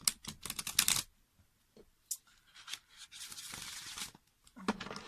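Playing cards are shuffled in quick crisp riffles, short bursts of rapid flicking separated by brief pauses, close and fairly quiet.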